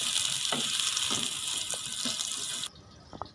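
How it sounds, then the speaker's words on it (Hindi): Onions fry in ghee in a pan for sev tamatar curry, a steady close sizzle with a few soft stirring knocks that cuts off abruptly near the end. "अब इसमें प्याज ऐड करेंगे। इसको थोड़ी देर फ्राई करेंगे"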